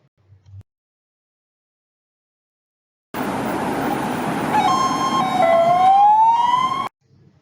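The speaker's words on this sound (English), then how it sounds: "It is a fire truck." After a brief silence, a fire truck siren wails loudly, its pitch sweeping up and holding, then cutting off abruptly.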